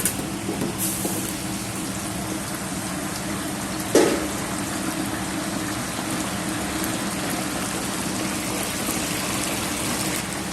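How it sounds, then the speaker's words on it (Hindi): Sliced okra fries in hot oil in a pan, giving a steady, even sizzling hiss that carries on throughout, with a single sharp clack near the middle and no voices. "जब तक हमारा ऑनियन ब्राउन होता तब तक हम भिंडी को फ्राई कर लेते हैं"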